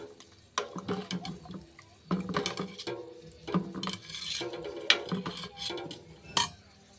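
A vegetable biryani mixture with a little added water is stirred in a pot. A spoon scrapes and clinks against the metal in repeated bursts of clatter, fairly quiet and close.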